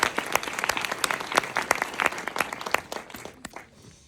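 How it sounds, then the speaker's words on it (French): A small live audience claps for a woman named Charlotte, a burst of distinct, fairly close handclaps that thins out and fades toward the end. "On applaudit Charlotte?"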